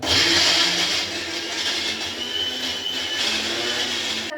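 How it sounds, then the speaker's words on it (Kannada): A kitchen mixer grinder running with tomato, chilli and coriander leaves inside: a continuous loud motor whine and whirring churn, strongest at the start, steady with slight pulsing, no talking over it. "ಮಿಕ್ಸಿ ಮಾಡ್ತಿದ್ರು."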